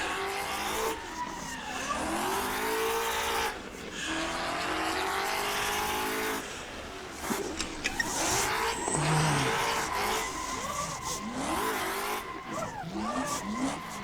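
A car drifts in a video game, its engine revving steadily while the tires squeal in long sweeping bursts, with short gaps and renewed slides through the clip.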